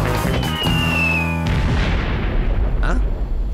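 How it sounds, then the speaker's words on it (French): An explosion booms with a deep, rumbling blast in a French Lucky Luke cartoon, loud and close over a music-like tonal layer with a falling whistle before it. "Encore une explosion?"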